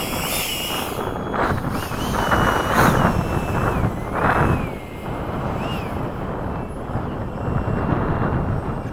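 An RC model F-15 jet taxis, its electric ducted-fan engine giving a loud, steady close-range roar with a high whining tone that rises and falls slightly as it rolls along.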